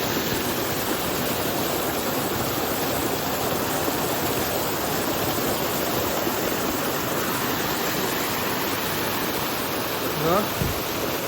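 Fresh mountain water near Kedarnath rushes down as a steady, dense broadband roar close by, continuous throughout, with a faint short sound near the end.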